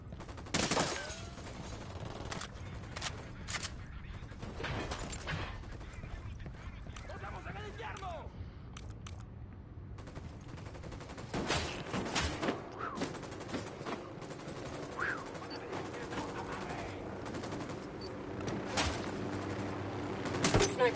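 Scattered gunshots, including sharp sniper cracks, ring out in Ghost Recon Wildlands amid shifting battle noise, with several loud isolated reports spread across the stretch and voices talking over parts of it.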